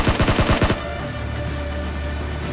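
Rapid automatic gunfire in a battle royale video game, a quick burst of about eight loud shots that stops abruptly, followed by quieter game ambience.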